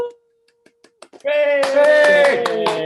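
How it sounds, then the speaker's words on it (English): An audience at a Pink Singers LGBT+ History Month event welcomes Sue Sanders with applause. A few scattered claps and a short tone come first, then loud clapping erupts with cheering voices over it. "let's have a pink round of applause to welcome Sue Sanders"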